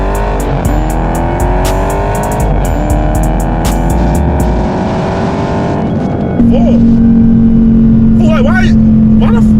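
A Dodge Challenger 392 Scat Pack engine pulls hard and loud from close by, its revving pitch climbing through gear changes before settling into a steady drone, with voices talking over it.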